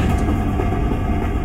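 Passing train in Euro Truck Simulator 2 with the Project Japan map, a loud, close, steady rumbling roar filling the whole moment without break.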